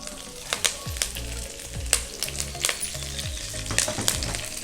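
A bunch of curry leaves fries over a low flame in hot oil, crackling and spluttering steadily with sharp pops scattered throughout. Nobody speaks over it.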